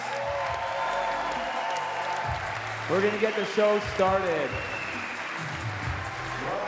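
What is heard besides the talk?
applause for trampoline athletes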